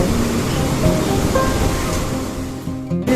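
Sea waves on a beach in North Goa wash steadily up the sand. A loud, continuous roar of surf fills the scene, easing slightly toward the end, with no voices.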